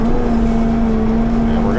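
Engine of an amphibious off-road vehicle idling just after being started with the key, a steady droning hum held close and loud, with a voice talking over it.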